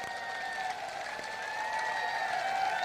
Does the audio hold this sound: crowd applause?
yes